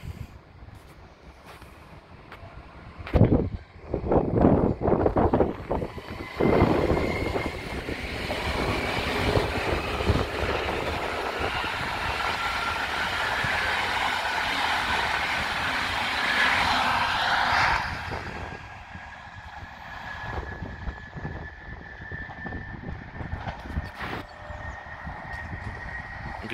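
An S-Bahn S2 commuter train with twelve long carriages pulls away toward Petershausen from a level crossing, a rising rumble and whine swelling loud mid-clip then easing as it recedes, with wind noise throughout.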